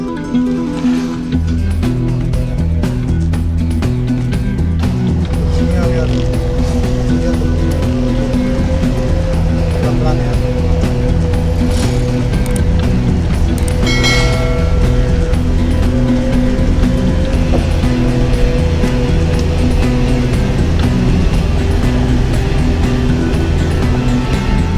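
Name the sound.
large trucks driving past hauling nickel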